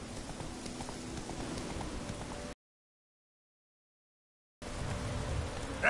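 Hooves of Roach, the horse in The Witcher 3, clip-clopping at a steady walking rhythm, broken by a gap of silence before the footfalls resume.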